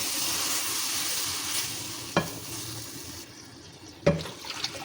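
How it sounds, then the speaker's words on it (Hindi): Water pours steadily into a semolina mixture in a cooking pot with a hissing, splashing wash, broken by two sharp clinks of a cup or utensil. "इस पॉइंट पे हम इसमें पानी ऐड कर देंगे"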